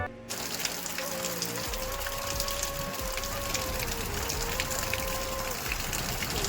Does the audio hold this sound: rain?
yes